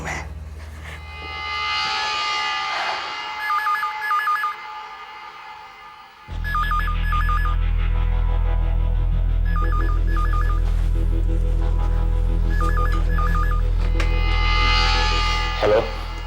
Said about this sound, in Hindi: अब फोन करता हूँ मैं।